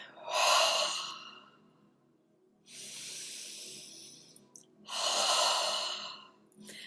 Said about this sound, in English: So just keep breathing in.